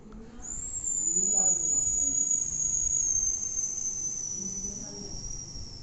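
A performer's voice imitates an airplane, a thin steady whistling drone that rises sharply at the start and then holds and slowly sinks over several seconds, fairly loud and continuous with no talk over it.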